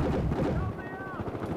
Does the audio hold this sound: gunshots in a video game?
yes